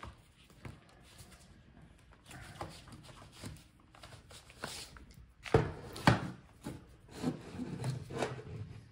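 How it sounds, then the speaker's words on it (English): Hinges of an Asus ROG Zephyrus G16 GA605W laptop being unfolded during disassembly, giving soft close scraping, rubbing and light clicks, with a few sharper creaks near the end. "Now let's gently unfold our hinges."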